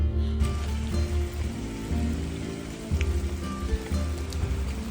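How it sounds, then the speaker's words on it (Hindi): Steady rain falls on a Sydney street, a dense, even hiss of drops on hard surfaces with a low rumble underneath, continuous for the whole stretch and fairly close. "चलो, इसका अलग ही मज़ा है बारिश का।"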